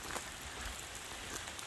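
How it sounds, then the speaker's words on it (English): Rain falling outside a garage makes a soft, steady patter and hiss that runs evenly through the short clip, faint and close, with no talking over it. "It's kind of raining right now."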